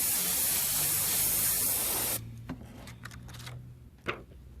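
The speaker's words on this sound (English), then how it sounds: "just with the black in the airbrush" An airbrush sprays black paint in a steady, bright hiss that cuts off abruptly midway, followed by faint clicks and small handling knocks.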